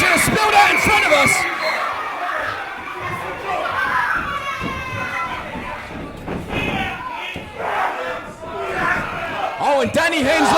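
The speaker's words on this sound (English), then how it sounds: "there's a gaggle of children who have come to ringside that are just screaming their heads off" A crowd of children screaming and shrieking at ringside during a live WrestleForce wrestling show in Shoeburyness, loud and close, with overlapping high yells, chants and occasional thuds throughout.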